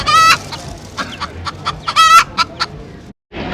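Chickens cluck in short bursts with a rooster-like crow mixed in, fairly close and loud, then a brief silence before more clucking.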